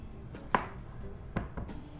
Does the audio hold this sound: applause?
no